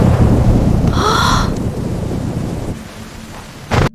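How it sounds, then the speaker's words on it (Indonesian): Heavy rain roars steadily with a low rumble of thunder, fading somewhat toward the end before a brief sharp thump. "Malam hari ketika hujan masih lebat dan petir menyambar-nyambar, Mega dan Pak Burhan berduaan."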